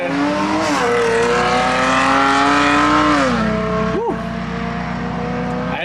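A 4C sports car with a new Capristo exhaust revs and drones loudly nearby with a deep, rumbling exhaust note that rises and falls, and a person briefly exclaims.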